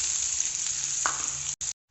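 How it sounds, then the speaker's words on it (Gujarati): Chopped onion sizzles in hot oil seasoned with whole cumin seeds and asafoetida, a steady close frying hiss with a soft stir midway before the sound briefly cuts out. "ડુંગળીને થોડી સાંતળવાની છે, ગોલ્ડન બ્રાઉન નથી કરવાની"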